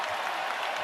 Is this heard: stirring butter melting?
no